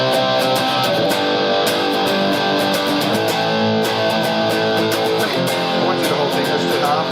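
Distorted electric guitar plays the chorus of a song, dense and loud with steady strummed chords and rhythmic palm-muted chugs running the whole way through.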